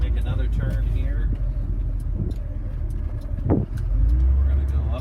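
A 1966 Thunderbird, a big, heavy classic car, drives along a road with a loud, steady engine and road rumble from inside the cabin, while someone talks over it.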